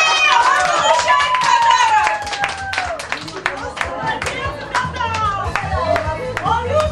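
Party guests at an adult birthday party break into scattered clapping amid excited squeals, whoops and chatter, a lively, close-up burst of noise that thins slightly after a couple of seconds.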